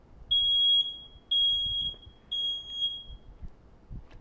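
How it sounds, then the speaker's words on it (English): Three loud, piercing electronic beeps from a smoke alarm, each lasting about half a second with short gaps, over a quiet background. "going to let a live smoke detector off so you guys can see what one sounds like"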